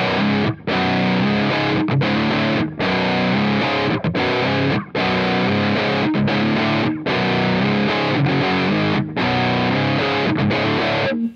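A distorted electric guitar played through a Mesa Boogie Triple Rectifier amp model in AmpliTube 5 chugs out dense, loud riffs with brief choppy gaps between phrases.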